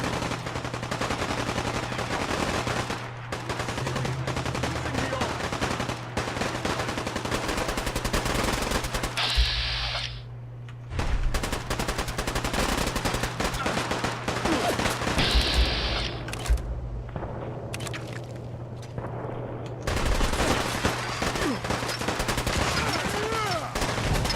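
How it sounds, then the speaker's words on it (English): Diamond City gunfire in Fallout 4 crackles in dense, rapid automatic bursts over a low steady hum, loud and nearly continuous, broken by a few brief lulls and sharp booming shots. "There's some Diamond City firepower."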